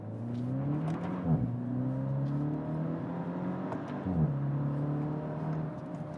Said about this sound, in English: Left on the brake, bury the right in the gas and let it go.